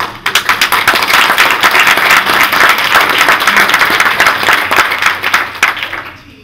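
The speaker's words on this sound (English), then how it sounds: "I would just like to applaud them for the work they did" Attendees at a commercial community meeting applaud the organizers, loud close clapping from a modest group that builds quickly, holds steady, then tapers off into a few scattered claps.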